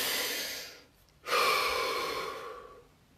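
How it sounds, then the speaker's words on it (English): A single deep breath during a quiet relaxation session, with a long, breathy inhale and exhale that stands alone, close and soft, after a brief pause. "Deep breath."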